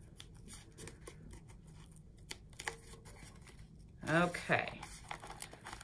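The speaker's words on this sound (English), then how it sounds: "I'm gonna add some more tape here." Adhesive tape is torn and pressed onto a paper tree trunk in a quiet indoor craft setting, with faint crinkling and short rips under a brief spoken word, then one louder tearing burst near the end.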